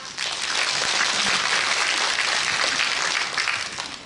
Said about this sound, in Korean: 우리 막내 백혜련 의원에게 다시 한번 감사의 박수 부탁드립니다.